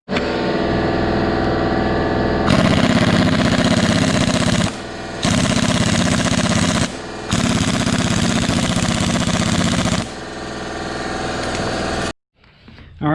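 A compressor-driven air tool works a crank damper off an engine with loud, rattling, sustained bursts: three long runs separated by brief pauses, then a quieter mechanical hum.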